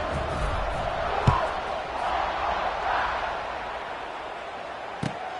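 Stadium crowd noise in a college football video game, a steady broadband roar of fans cheering with a couple of brief sharp thumps, sustained at moderate level throughout.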